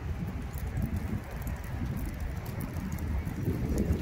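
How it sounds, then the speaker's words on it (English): Steady low roar of strong wind rushing past the microphone, constant and heavy throughout with no voices. "The wind is pretty gnarly today,"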